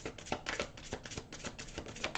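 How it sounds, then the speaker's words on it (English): Rapid riffling clicks of tarot cards being shuffled, a quick burst of close, crisp flutters. "One more shuffle."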